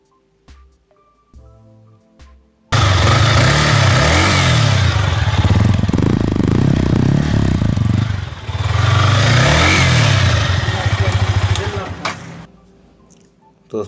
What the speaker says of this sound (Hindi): अब इसकी लाइट ऑन करके देख लेते हैं और इंजन साउंड सुन लेते हैं।